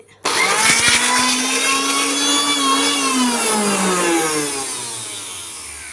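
Kitchen mixer grinder whirring through chammanthi chutney, switching on abruptly into a loud, steady high-pitched motor whine whose pitch wavers slightly as it grinds, then slowly easing toward the end.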